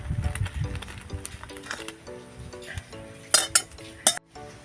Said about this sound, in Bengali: আস্তে আস্তে করে আমি নেড়ে দিচ্ছি